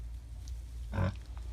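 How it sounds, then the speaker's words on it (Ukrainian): Vietnamese pot-bellied and Hungarian Mangalica pigs on a farm give a single short low grunt over a steady low background hum, fairly faint and without talk. "Годуємо свинку."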